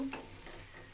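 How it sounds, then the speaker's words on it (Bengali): Spatula scraping and stirring boiled papaya with mixed vegetables and chana dal in a frying pan, a brief close scrape over a soft steady sizzle. "সবজিগুলো নাড়াচাড়া করে দিব একটু যাতে নিচে লেগে না যায়"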